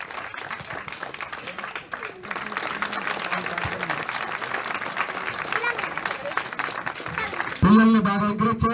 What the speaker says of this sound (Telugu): అందరూ చప్పట్లు కొట్టాలి.